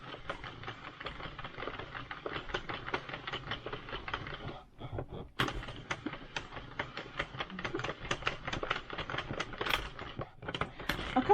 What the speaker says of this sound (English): I don't think you want to watch me turn a crank for 20 minutes.